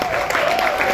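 Brief burst of audience clapping at a film premiere screening. A voice rises faintly over the steady patter.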